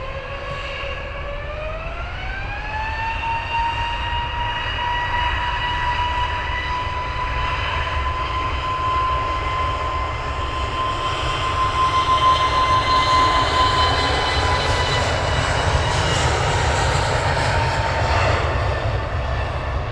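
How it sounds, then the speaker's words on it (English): Jet aircraft rolling for takeoff at Luton Airport, a loud sustained engine roar with a rising whine that steadies and then swells into broadband thrust noise, heard close and without voices. "This aircraft was rolling"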